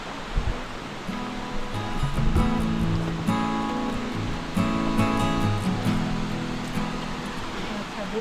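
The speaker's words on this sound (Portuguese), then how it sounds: "Tá aí, pessoal, Cachoeira do Funil." Cachoeira do Funil waterfall near a campsite, a steady broad roar of falling water throughout, with talk and other voices layered over it.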